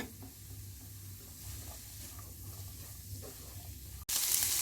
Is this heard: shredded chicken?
yes